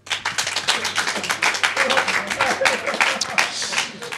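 An audience applauds, a dense wash of many hands clapping steadily for several seconds with a few voices mixed in.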